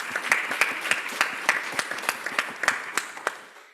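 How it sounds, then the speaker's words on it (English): A small audience gives a round of applause at a conference event, with distinct, fairly sparse claps in an uneven rhythm that grow fainter as it tapers off. "Let's give them a big round of applause."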